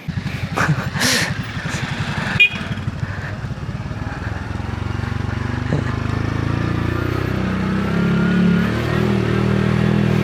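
Motorcycle on a mountain pass road in La Union, first a close throbbing engine, then a steady droning hum of engine braking on the descent, loud and continuous.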